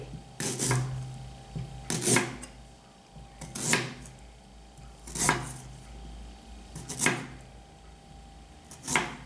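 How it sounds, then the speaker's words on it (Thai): Unpeeled ginger being sliced into rounds with a knife on a cutting board, five or six distinct chopping thuds at a steady rhythm about every one and a half seconds, close and fairly quiet. "ขิงของป้าก็จะหั่นแว่น เอาทั้งเปลือกนะคะ ล้างดินออกนะคะ หั่นเข้าไปเลยเป็นแว่นๆนะคะ"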